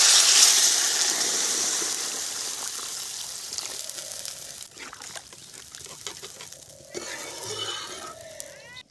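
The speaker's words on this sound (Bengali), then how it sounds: "এখন আমি জল দিয়ে দেব।" Water goes into a pan of spiced masala cooked for rohu fish curry, a loud gushing splash at the start that fades into softer bubbling and clinks.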